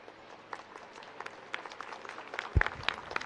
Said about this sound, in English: A tinkling sweet applause.